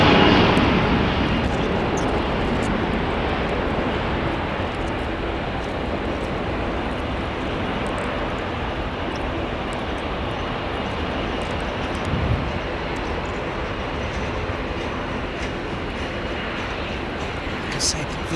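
Airbus A350 XWB jet engines produce a steady broad roar close by throughout, a continuous rushing drone with slight variations, while a person talks over it.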